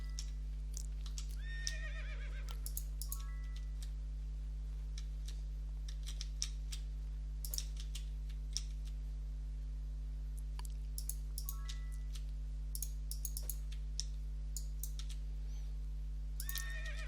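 Horses neigh and whinny several times in the fantasy role-playing video game Might and Magic 8, with scattered clicks and chirps over a steady low electronic hum.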